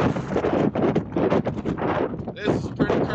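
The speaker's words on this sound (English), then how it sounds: "It's so spooky, it's so windy." Gusty wind buffets the microphone on a rainy hiking trail, roaring in uneven surges that rise and fall; a person's voice is heard amid the blustery noise.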